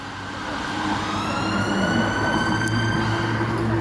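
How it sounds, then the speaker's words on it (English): Wailing police and ambulance sirens rising and falling over steady traffic rumble on the streets of Whitechapel, London, moderately distant and continuous throughout. "Whitechapel is just constant police, ambulances."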